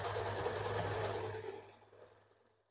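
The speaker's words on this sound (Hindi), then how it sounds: "इस तरीके से फोल्ड करके आपको सिलाई देना है" A sewing machine stitches along folded blouse fabric, a steady close mechanical whir with a low hum that gradually slows and fades over a couple of seconds.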